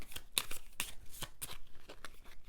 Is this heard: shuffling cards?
yes